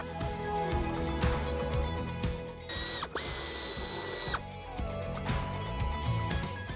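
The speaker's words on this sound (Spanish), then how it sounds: "Para desmontar lo que sería este tapizado, tenemos que quitarle 3 tornillos" A ratchet working screws out of a Renault Arkana trim panel, rapid close clicking in bursts with a brief louder whirring stretch in the middle.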